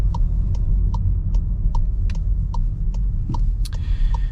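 A 2024 VW Taos SEL crossover driving in eco mode on a road, heard from inside the cabin as a steady low engine and road hum with a regular ticking, like a turn signal, clicking over it.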